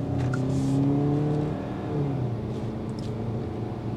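A 2022 Hyundai Tucson SUV accelerates on the road, its engine note rising steadily with a smooth whir and tyre hum, heard close and continuous without any talk.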